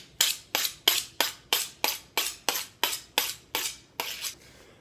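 Eleven even, evenly spaced metallic scrapes of a kitchen knife drawn across a sharpener, each stroke a bright rasping swipe fading out, close and clear with no talking.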